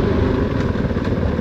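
A Kove 450 Rally motorcycle engine runs steadily and loudly up close as the bike eases down, a continuous low rumble without talk.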